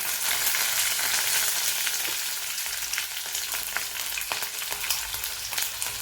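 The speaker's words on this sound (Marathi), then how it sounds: "हा कढीपत्ता आहे हा कढीपत्ता घालत आहे" Curry leaves frying in hot oil in a pan over a low flame give a steady, dense sizzle and crackle throughout, with small sharp pops scattered on top and no talking.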